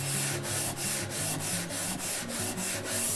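An engine intake manifold surface is brushed lightly in close, evenly paced strokes, about nine soft scratchy sweeps in a steady rhythm over a faint low hum.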